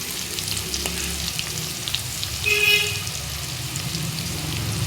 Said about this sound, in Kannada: ಎರಡು ಸೈಡ್ ಚೆನ್ನಾಗಿ ಫ್ರೈ ಮಾಡಿ ಕ್ರಿಸ್ಪಿಯಾಗಿ ಬರಬೇಕು